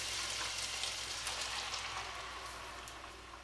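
A big 28-ounce can of diced tomatoes, juice and all, pours into a hot pan, raising a dense, even sizzling hiss that slowly fades.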